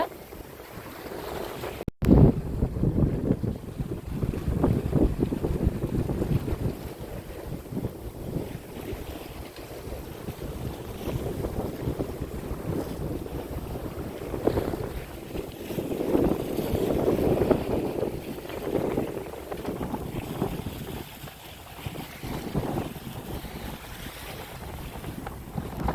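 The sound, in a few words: sailboat sailing in wind on the Mediterranean Sea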